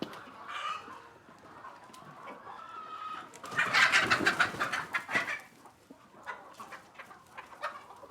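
Hens cluck on a poultry farm, scattered soft clucks at first, then a louder burst of overlapping clucking and squawks from several birds nearby before settling back to intermittent calls.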